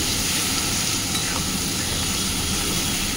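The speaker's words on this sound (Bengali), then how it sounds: "তো এবার পেঁয়াজ আর ক্যাপসিকাম টমেটো সবগুলোকে ভালো করে একটু ভেজে নিতে হবে।" Onion, capsicum and tomato fry in a pan for a chicken dish, producing a loud, unbroken hiss of sizzling oil with faint stirring underneath, close up and without speech.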